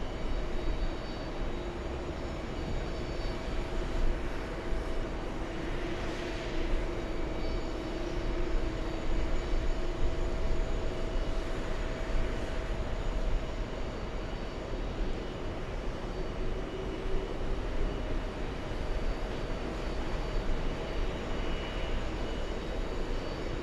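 A long-haul airliner roars steadily on final approach into JFK, a continuous, broad engine rumble with a faint, slowly shifting whine and no voices.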